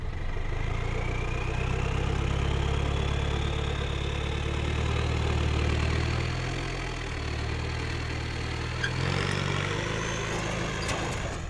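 Car engine with a modified, louder exhaust idling steadily nearby, a deep continuous low rumble with a faint rising whine above it, holding level throughout with a slight dip midway.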